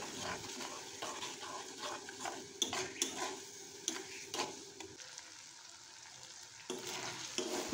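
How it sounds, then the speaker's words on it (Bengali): Masala with chopped tomato, salt, turmeric, a little sugar and ground coriander frying in a pan for vegetarian stuffed pointed gourd, with steady sizzling and repeated scraping stirs of a utensil against the pan, no talking. "এবার ভালো করে কষিয়ে নিচ্ছি।"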